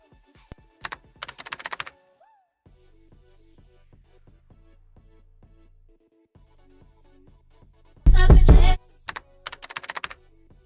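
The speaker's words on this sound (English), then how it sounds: "I'm gonna insert a typewriter sound." Typewriter text-typing sound effect from an iPhone editing app: bursts of crisp rapid key clacks with quiet gaps, and one loud harsh burst near the end, over faint background tones.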